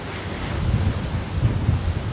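Steady wind on the seafront at Kato Paphos, Cyprus, buffeting the microphone in low, rumbling gusts, with a faint wash like surf in the background.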